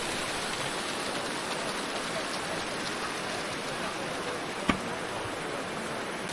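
A small waterfall at Kaindy Lake, Kazakhstan, rushes in a steady, even wash of falling water, with one brief knock partway through and no voices.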